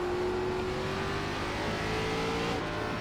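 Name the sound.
ARCA race car engine at full throttle in iRacing video game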